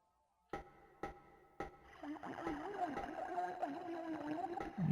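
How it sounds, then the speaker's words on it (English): A low, drawn-out moan rises and wavers behind the ambience of the Martian Gothic: Unification video game, following three sharp knocks and continuing as a faint, sustained vocal groan over a murky background. "I hear someone moaning."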